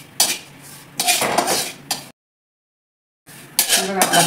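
Grated coconut dry-roasting in a pan, heard as bursts of metallic scraping and clinking as a spoon stirs it, close by. There is a dead-silent break midway.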